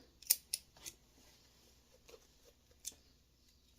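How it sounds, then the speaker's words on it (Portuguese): Fabric scissors notching and trimming the seam allowance on a child's flared dress, several quiet, crisp snips in an irregular cluster and then one more, close and faint, with no voices. "Faço os piques e refilo, tomando cuidado para não cortar além do que eu devo cortar."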